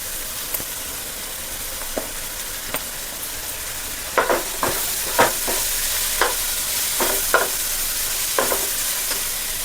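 Vegetables including capsicum sizzle in a pan as they are stir-fried for noodles, a constant frying hiss broken by scattered scraping stirs, busier in the second half.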